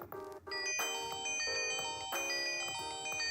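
A T55+ smartwatch plays a bright electronic ringtone, a repeating melodic chime pattern, loud and close, with short pauses between phrases.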